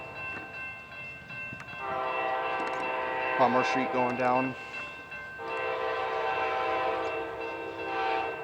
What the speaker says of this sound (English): We have Amtrak train P092 passing through downtown Plant City, Florida.